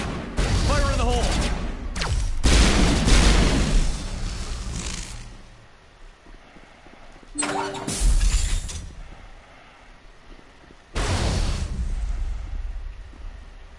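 Explosions in Mass Effect go off in loud, rumbling bursts, two heavy blasts early, then another around the middle and a last one near the end, each decaying into a low rumble between quieter gaps, with speech over the action.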